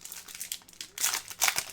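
SP Authentic hockey card pack wrapper ripped open close by, a soft crinkle followed by two sharp bursts of tearing foil with rustling between, no voices.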